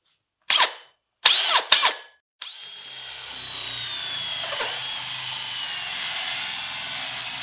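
A power drill boring into a homemade spinning disc toy without a center drill, starting with a few short bursts separated by silence and then settling into a steady whirring run that lasts several seconds.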